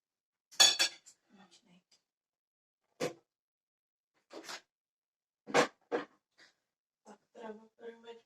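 Dishes, pots and cutlery clinked and clattered in a rural kitchen while soup noodle cooking wraps up, a few sharp separate knocks and rattles spread out with quiet gaps between them.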